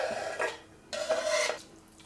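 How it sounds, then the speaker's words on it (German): A knife chops chives over a bowl of egg salad in two short bursts of scraping, rasping cuts with clinks against the dish, separated by a brief quiet gap. "schneiden wir noch Schnittlauch da rein"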